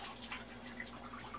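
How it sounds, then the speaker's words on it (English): Water runs steadily from an off-grid, gravity-fed sink in a tiny house, a faint, even trickle that never changes over the brief moment, with no voices. "basically flowing water"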